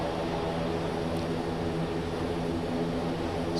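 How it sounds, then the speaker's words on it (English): Quest Kodiak single-engine turboprop in X-Plane 12, a constant loud droning hum with steady propeller tones, unbroken and alone without talk. "So I guess the engine is quite loud"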